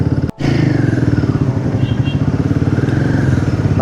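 A Royal Enfield Himalayan motorcycle runs steadily while riding from Kurseong to Darjeeling, its loud, close engine thumping in a continuous even pulse after a brief dropout near the start.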